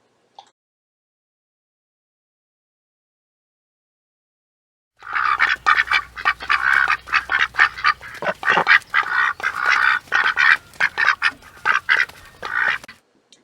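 Ducks on a farm quack loudly and rapidly after several seconds of silence, a dense, close chorus of honking calls that carries on steadily for about eight seconds, with no talking.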